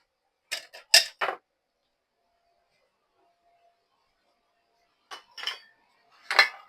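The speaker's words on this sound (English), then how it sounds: "I'm going to beat 2 eggs in a little dish" Two eggs being beaten in a small dish, heard as a few quick bursts of clinking as a utensil strikes the dish, separated by a long quiet gap, close and sharp.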